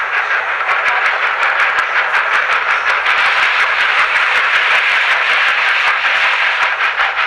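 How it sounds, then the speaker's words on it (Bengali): A train rolls in with a continuous loud hiss and rumble, rhythmic clacking from the wheels running underneath. "অবশেষে যথাসময়ে ট্রেন প্ল্যাটফর্মে এলো।"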